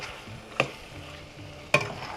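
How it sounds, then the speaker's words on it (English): A spoon stirs seasoned chicken saag in a cooking pot, two sharp scraping clinks against the pot over a low steady sizzle, close up with no talking. "I'm going to mix it all up, and this is going to cook for about"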